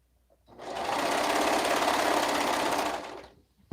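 A sewing machine stitches liner pieces in one continuous run, starting up, holding a fast, even rattling whir for about two and a half seconds, then winding down, close and fairly loud.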